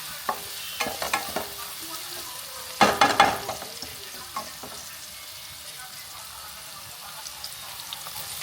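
Onion and carrot frying in ghee for a South Indian ghee rice, with a steady moderate sizzle broken by several scraping stirs and one louder clattering burst near the middle.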